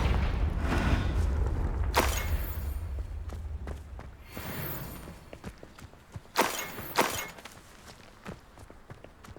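Spell effects cast in the Hogwarts Legacy video game, with fire spells such as Incendio and Confringo: loud booming bursts and whooshes with shattering debris, several distinct blasts spread over the span with quieter rustling and steps between.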